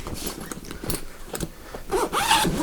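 The double zip bag of a Rabaconda tire changer is zipped in several rough, rasping pulls, close and clear with small handling knocks and no talking.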